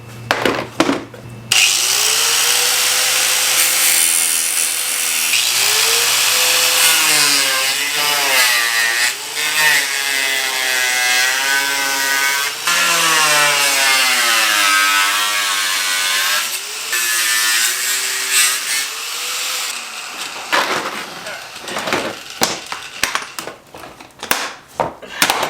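An old radiator fan shroud clamped down and cut with a power tool, a loud sustained whine that rises and falls in pitch as the blade bites, alone with no talk, before stopping with a few short clunks.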